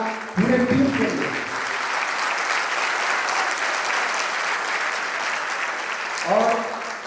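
Sustained audience applause fills the hall at an alumni meet of JNV Begusarai school, steady and dense for several seconds, with a voice speaking briefly just before it starts and again as it fades.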